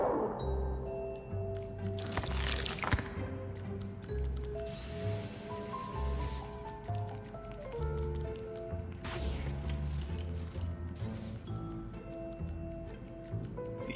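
Splashing, dripping water effects from the video game Luigi's Mansion 3 play over steady game music, with squishy liquid bursts recurring through the passage.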